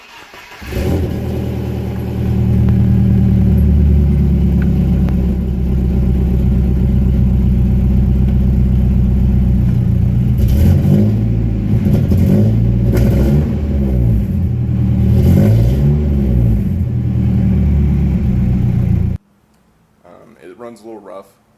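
A Nissan 240SX barn-find engine idles unevenly and revs a few times, a loud close rumble with surges, before cutting off near the end.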